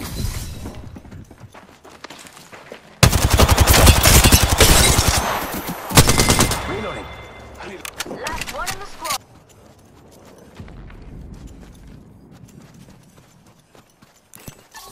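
Rapid bursts of video game gunfire crackle loudly in dense automatic volleys, with a long burst near the middle and shorter ones after, then fading to quieter background noise.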